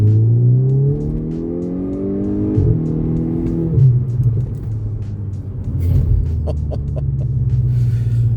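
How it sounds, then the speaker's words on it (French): A Volkswagen Golf 6 R engine rumbles and rises in pitch as it accelerates, with gear shifts breaking the climbing revs, loud and close throughout. "vous allez comprendre à peu près comment ça roule ce genre de voiture"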